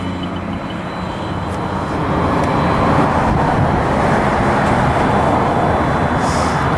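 Freeway traffic rushes past a roadside spot lined with businesses, a dense, steady roar of passing vehicles that swells slightly louder after the first couple of seconds and holds without pause.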